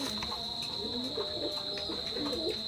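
A pair of teddy pigeons coo softly in a repeated, low burbling rhythm close by, over a constant high insect-like whine in the background.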